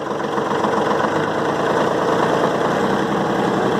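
Kubota tractor engine running steady and loud up close, a continuous rough diesel drone with fine rapid pulsing, held at a constant throttle for the whole stretch with no voices.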